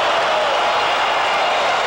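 A stadium crowd roars at the end of the 1982 American Soccer League Championship final, Detroit Express against OK City Slickers, a dense, loud, steady wash of cheering and applause.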